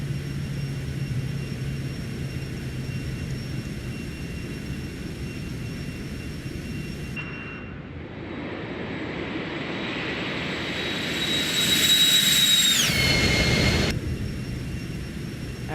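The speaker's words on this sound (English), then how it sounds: "aircraft is climbing well" Airliner jet engines in the X-Plane 12 flight simulator during the climb after takeoff: a steady, continuous roar and rumble with a high whine. The engine tone shifts midway and swells louder near the end before settling back.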